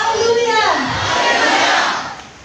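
A church congregation in Nagpur shouts hallelujah together, a loud mass of voices rising in a single sustained cry that swells and then fades over a couple of seconds.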